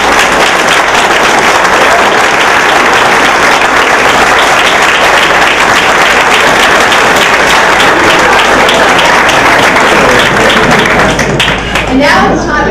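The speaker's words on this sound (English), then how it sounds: "If you would please give them a round of applause." A large audience gives a round of applause for four medal winners at a medal ceremony, loud continuous clapping filling the room before a brief voice near the end.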